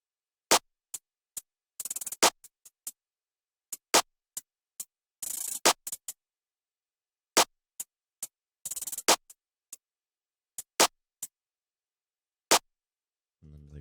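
Sharp claps from a plugg/jugg style drum beat land in a sparse, irregular pattern, each crisp and isolated against silence, with a few short noisy bursts mixed between them.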